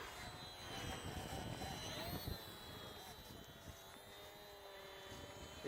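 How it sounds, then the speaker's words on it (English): A small Eflite Sport Cub S RC model airplane flies outdoors on a breezy day, its electric motor giving a steady whine that rises and falls in pitch as it passes, over wind rumble. "This is a cool little plane."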